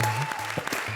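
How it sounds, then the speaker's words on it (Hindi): Studio audience applause at a televised comedy show, a dense wash of clapping with a steady low hum beneath, continuous through the short moment with a few sharper claps standing out. "क्या बात है, जोरदार तालियां"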